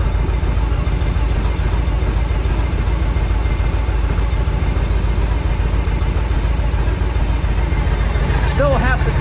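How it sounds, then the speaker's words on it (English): A restored 1976 Harley-Davidson FLH motorcycle engine runs steadily close by, a continuous loud low rumble with a faint knocking pulse throughout. "Motor's running, sounds great."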